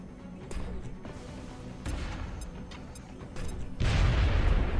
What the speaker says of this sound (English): We can grenade this guy plus his cover.